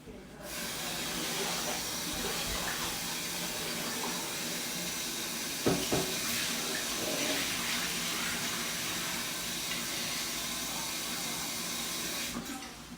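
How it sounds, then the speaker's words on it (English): Ackee and saltfish are strained at a kitchen sink under a running tap, a steady loud hiss of pouring water lasting throughout, with a brief clunk near the middle. "I need to strain the ackee and the saltfish off"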